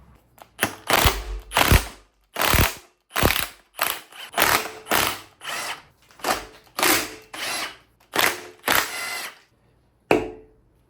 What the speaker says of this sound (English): Gonna take all the head bolts out, bam, bam, bam, bam, bam.